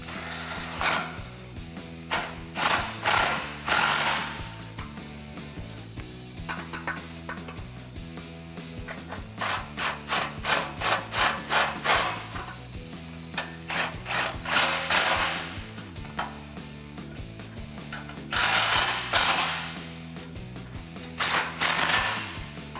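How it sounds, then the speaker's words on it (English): A socket ratchet on a 21mm socket tightens the rear bumper bolts of a Jeep Wrangler JL, giving repeated bursts of quick metallic clicks between pauses, close and clear over a steady low background hum. "I'm going to be using that 21mm socket over on the passenger side."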